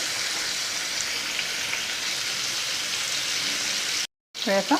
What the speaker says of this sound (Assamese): মাছখিনি মোৰ ফ্ৰাই কৰা হৈ গৈছে